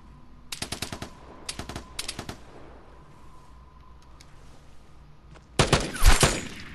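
Gunfire in the game Vigor: a few sharp separated shots early on, then a louder close burst near the end, with quiet ambience between and no talk.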